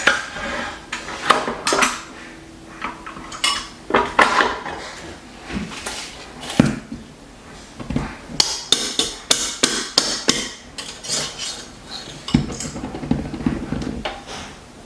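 Eggs being beaten in a bowl for a pavlova, a rapid series of clattering, tapping hits of utensil against the bowl in uneven bursts, close and fairly loud with no voices.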